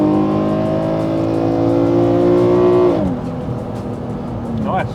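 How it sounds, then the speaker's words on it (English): The modified exhaust of an Infiniti G37 Skyline with a Liberty Walk kit rumbles deep and loud at steady idle, then the pitch drops as the revs fall, with people talking over it. "I think we've actually managed to really nail the exhaust note."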